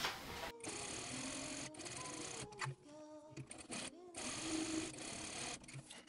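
A sewing machine stitches a dart in knit fabric, its close rapid whir running in several bursts broken by brief pauses as the needle stops and starts.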